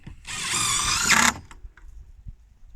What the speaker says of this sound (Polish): wykorzystując wkrętarkę, tudzież młot udarowy, wkręcając